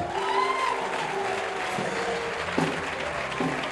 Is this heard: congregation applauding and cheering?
yes